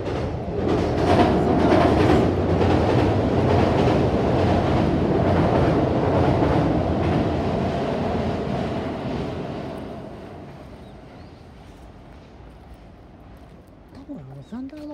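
A JR train passes along a valley route through hilly country, its loud rumble and rhythmic clatter filling the first several seconds before steadily fading into the distance.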